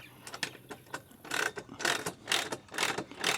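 A ratcheting speed wrench clicks rapidly in bursts while tightening bolts on composite deck boards fixed to metal stair stringers, loud and close, the ratchet strokes growing stronger and more regular.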